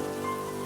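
Steady rain falling in a muddy outdoor setting, a soft, even hiss of drops on surfaces with no other sounds.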